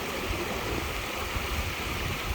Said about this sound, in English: This is all coming off of the Pyramid Ridge up there. You got just numerous mini waterfalls.